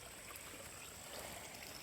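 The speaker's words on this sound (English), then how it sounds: "This here is the spring. Some nice fresh water coming out of here." Fresh spring water flows out of the ground on a forest trail, a faint steady trickling stream with no voices.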